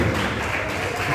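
Church congregation applauding the Lord during a service, a steady broadband wash of clapping lasting about a second with voices mixed in.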